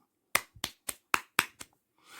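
Six sharp hand claps in an uneven rhythm, close and fairly quiet, followed by a soft hiss with no voices.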